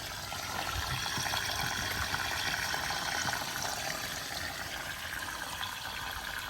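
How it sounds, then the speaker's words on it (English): Water steadily fills a container of flax plants set for retting, a continuous broadband rushing and trickling that holds evenly for several seconds with no voices. "you can see the water's coming up really good."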